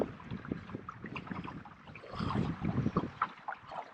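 Headwind buffets the microphone while kayaking a wilderness waterway, producing a steady low rumbling gust noise with swelling surges and faint water and paddle sounds beneath.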